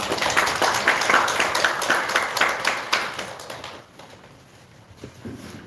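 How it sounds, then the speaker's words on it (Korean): A seated audience at a National Assembly forum applauds to welcome a lawmaker. The dense, brisk clapping runs loud for several seconds and then quickly fades to a quiet room. "여러분, 박수로 청해주시면 감사하겠습니다"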